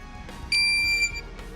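A handheld metal detector pinpointer gives one steady, solid high-pitched electronic tone lasting about half a second, loud and alone over faint background noise.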